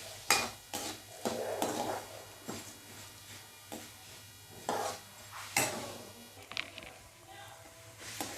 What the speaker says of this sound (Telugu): ఇప్పుడు ధనియాలు కూడా మంచిగా వేగినాయండి